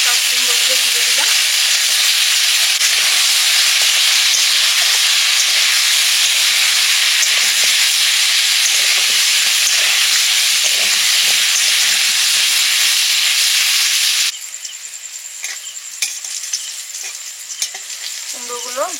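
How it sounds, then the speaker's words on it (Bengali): Pumpkin pieces salted and coated with turmeric fry in a wok with a loud, steady sizzle and hiss; near the end the sizzle suddenly drops to a softer level, with faint stirring clatter. "কুমড়োগুলো ভাজা করে নিচ্ছি"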